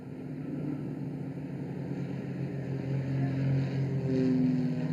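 Aerobatic display aircraft pass over the top of a loop with barely two meters of separation, giving a steady, droning engine and propeller hum that swells slightly louder toward the end.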